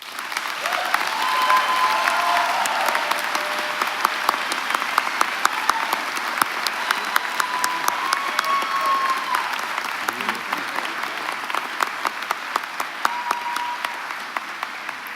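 Sustained applause rolls through a university commencement crowd at a chiropractic graduation ceremony, broad and even, with sharper individual claps standing out near the front as it carries on for the full length.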